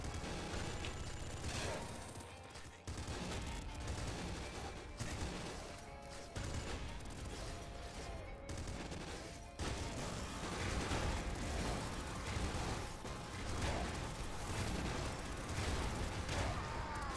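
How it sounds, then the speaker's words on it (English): Rapid, continuous gunfire from a sword gun in the video game Nuclear Throne, dense and loud throughout with brief drops near three and ten seconds, layered with other game sounds. "keep firing until we run out of ammo sort of situation with this weapon"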